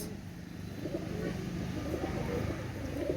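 Indian Kalanka pigeons coo softly and repeatedly at close range, a low murmuring rumble under a faint steady background hum.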